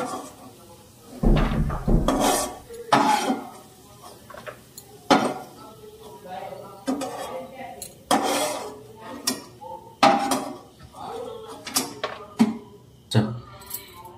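A spoon scrapes and clanks against a metal kadai while fried cashews and raisins are lifted out of ghee, giving repeated close, sharp metallic knocks in an irregular rhythm with short pauses between.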